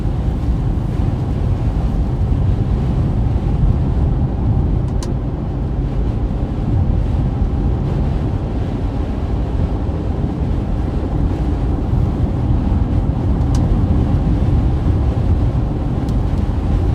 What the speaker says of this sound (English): Really strong wind here.